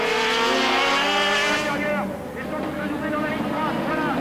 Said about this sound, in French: la puissance supérieure de la R21 Turbo finit par avoir raison de la petite AX Sport de Jean-Pierre Jarrier